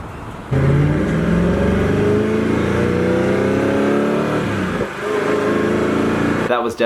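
Koenigsegg Agera R supercar engine, a loud sustained rev climbing steadily, dropping briefly and picking up again from inside the cabin, with people talking underneath.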